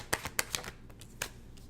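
A deck of tarot cards being shuffled gives quiet, close riffling clicks in short uneven bursts, several snaps then a pause and one more burst.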